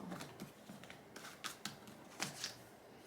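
Tarot cards are cut and shuffled by hand in several quick papery riffles and slaps, close and fairly quiet, with soft rustling between the bursts and no talking.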